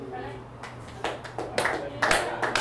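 An audience at a stand-up comedy show in a saloon claps in a few scattered bursts, building from light patters to a fuller round of applause, faint and roomy.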